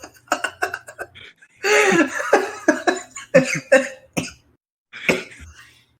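A few sharp coughs and throat clearing mixed with short bursts of laughter, close by, with brief gaps of silence between.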